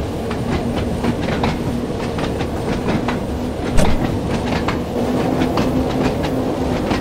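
Simulated Isle of Wight electric train running in Train Sim World 2, a steady rolling rumble with regular clickety-clack wheel beats throughout, close and continuous with no talk.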